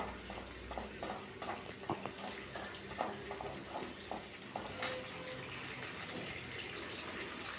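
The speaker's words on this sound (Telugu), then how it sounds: "పిండేసి వేస్తాను. ఇప్పుడు ఇది వేగనిస్తాను బాగా." Soaked soya chunks, squeezed out and added to a pan with tomatoes, fry quietly while a utensil stirs them, producing a faint, gentle sizzle broken by a series of light, fairly regular scraping clicks.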